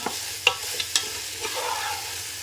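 Juicy chicken fry is stirred in a hot pan, a few sharp spoon clacks and scrapes over a quiet, low sizzle, close by and with no one talking.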